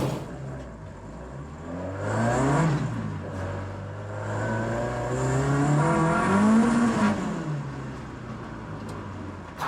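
SD170-powered Mk1 Ford Escort engine driving on a road, steady drone with rising and falling revs as it pulls through gears, close and continuous with no talking.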